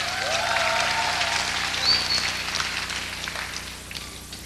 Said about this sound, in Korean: 제가 박수 받는 건 또 설교하면서 또 처음입니다